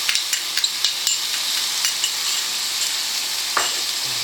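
Pork and garlic sizzling in a frying pan, a steady bright hiss with scattered crackles and pops plus a couple of utensil knocks, up close.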